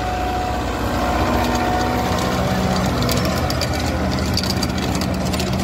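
Kubota MU5502 tractor engine running under load with a rotavator, a loud, steady low diesel drone with a mid-range hum and rattle, close and continuous for the whole stretch.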